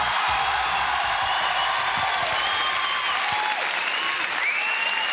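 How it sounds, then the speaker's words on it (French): A large crowd claps steadily and loudly, with occasional faint whoops mixed into the dense, continuous applause. "Jean-François Balmer, applaudissements."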